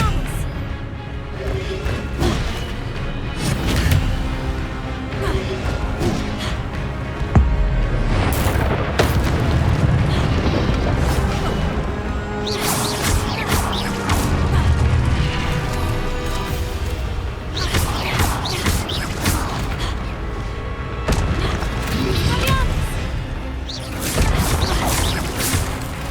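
Expelliarmus spell casting in the Hogwarts Legacy video game amid combat, with repeated heavy booms, crashes and magical bursts over a dense, continuous game soundtrack.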